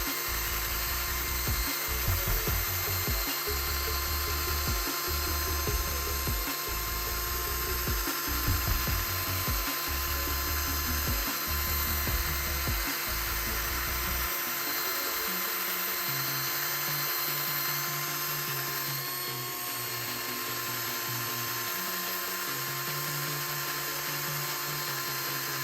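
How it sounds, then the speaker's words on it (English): A handheld power drill runs steadily with a buffing pad, working polish into a carbon fiber surface; the motor whirs in pulsing bursts for about fifteen seconds, then settles into a lower, steadier hum, with no talking. "Got my drill out, and now I'm gonna start buffing this area"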